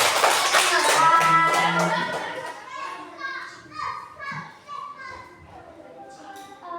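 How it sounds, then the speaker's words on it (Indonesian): Students in a classroom give a short burst of applause, with quick, bright claps for about two seconds, then the clapping fades into children's chatter and voices. "Berikan dulu aplaus buat semuanya"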